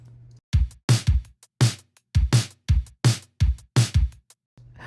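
Basic, dry drums in an indie pop/rock song without extra layering or effects, a simple kick and snare pattern repeating for a few bars, loud and alone, with a low hum before and after.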